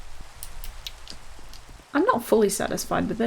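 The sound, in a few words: rain in the video game Minecraft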